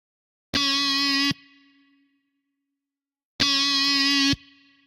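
Distorted, buzzy guitar-like chord tone from a beat with the acoustic guitar presence preset bypassed, two sustained hits under a second each, separated by a short decaying tail and silence, loud and close.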